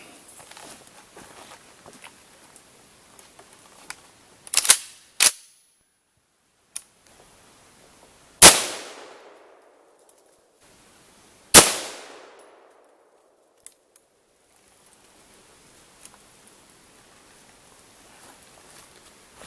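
An FAL rifle fires single gunshots outdoors, several loud sharp cracks spaced seconds apart, each trailing off in a reverberant echo, with smaller clicks and handling noises between them.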